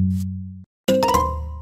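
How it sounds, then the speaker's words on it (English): A doorbell in the video game Minecraft sounds as a ringing chime: a low sustained tone cuts off, then after a brief silence a bright, clinking ding rings out and slowly fades. "It realized the doorbell is trapped."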